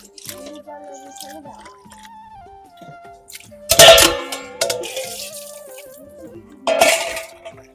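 Meat being washed in a pot of water: splashing and sloshing bursts with clinks against the pot come in two loud surges, separated by quieter stretches with a voice talking over them.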